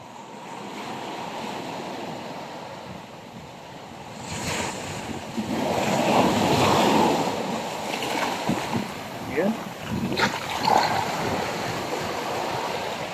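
Strong ocean waves break and wash onto a shore, a steady roaring surf with wind buffeting the microphone and swelling surges, continuous and fairly loud throughout.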